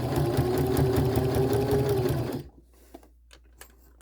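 A sewing machine runs a straight stitch along quilt-as-you-go sashing, a close, steady, rapid whirring chatter for about two and a half seconds before stopping abruptly, leaving near silence with a few faint clicks.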